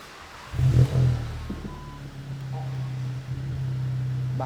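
A VW Mk7.5 Golf GTI with a back box delete exhaust starts with a brief throaty rise, then settles into a deep, steady idle, close and moderately loud, with faint speech in the background.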